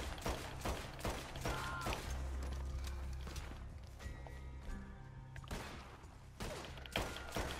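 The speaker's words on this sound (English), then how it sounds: "Watch this. Fast shooting." Rapid gunfire in the Red Dead Redemption 2 video game: a quick string of sharp shots and mechanical clicks, fairly quiet, with overlapping game sounds and music beneath.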